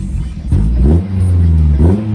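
A Suzuki Grand Vitara SUV engine with a new exhaust revs up close with a deep, throaty note, rising and falling twice in short bursts.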